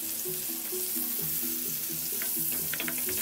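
Pork sauté sizzles steadily in a frying pan, a continuous close hiss with faint crackles, under a soft melodic background tune.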